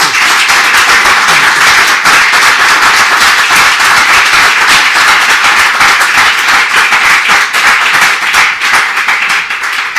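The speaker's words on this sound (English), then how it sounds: "big round of applause" Dense, loud audience applause at a book presentation event, steady sustained clapping from many hands filling the room without a break.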